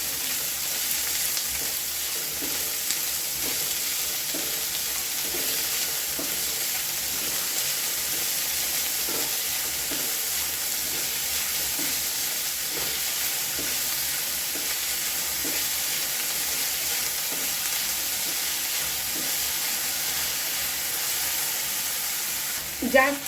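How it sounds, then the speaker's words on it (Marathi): The white part of chopped spring onion frying in oil while being stirred: a constant soft sizzle with faint regular scraping strokes from stirring, close and steady, without talk. "तो आधी तेलामध्ये टाकून घ्यायचा आणि चांगला हलवून घ्यायचा, चांगला परतून घ्यायचा,"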